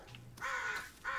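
A raven caws twice in the Blair Witch video game, harsh drawn-out calls with a short gap between them, set against a quiet forest ambience.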